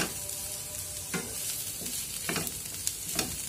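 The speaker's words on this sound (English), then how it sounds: "Stir well." Vegetables with cumin seeds and garlic fry in a pan under a steady close sizzle, while a spatula scrapes and stirs in several short bursts and no one speaks.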